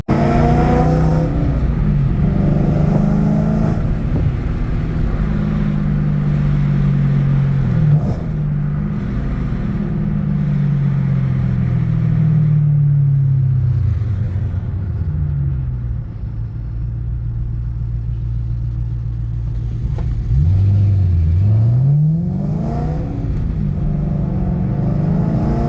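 Supercharged BMW E92 M3 with an aftermarket exhaust revving and pulling through gears, a loud, deep rumbling drone that rises and falls in pitch, close and continuous with no talking.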